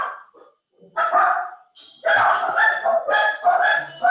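A small chihuahua barks in quick, sharp yips close by, a few isolated at first, then a rapid run of yapping.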